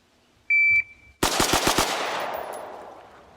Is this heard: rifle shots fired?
yes